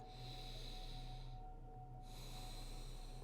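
Slow, deep breathing during a vinyasa yoga flow, a long airy exhale through the nose, a short pause, then another drawn-out breath, close and soft, with no talk.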